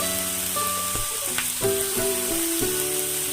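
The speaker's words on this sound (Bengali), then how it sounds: "এই পেঁয়াজ কলি আলুগুলোকে ভালো করে ভেজে নিতে হবে" Spring onion stalks and potato pieces fry in hot oil with a steady, close sizzle, a few stirring scrapes and clatters breaking through the crackle; no one speaks.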